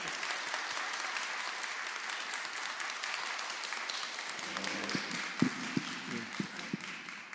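Audience applause fills a book concert celebrating a completed Westminster Standards devotional series, a steady wash of many hands clapping throughout, with a few louder individual claps standing out near the end.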